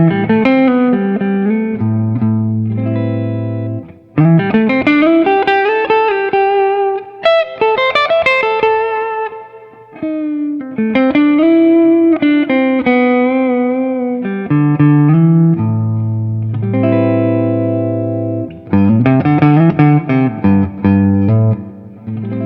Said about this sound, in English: let's see what that humbucker sounds like